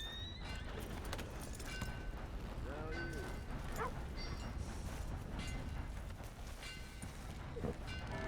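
A horse whinnies amid clip-clopping hooves and background rumble in Red Dead Redemption 2, with a digitally processed, game-like quality.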